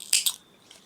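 Scissors snip through crochet yarn at the end of a round, two quick close crisp cuts followed by a faint click, with no talking.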